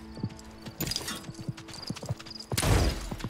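Horse hooves clip-clop in a steady rhythm as a mount approaches in the online battle-royale game Realm Royale, with a short whinny and a louder burst near the end.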